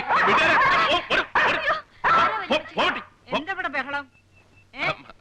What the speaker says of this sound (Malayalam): അയ്യോ, പട്ടി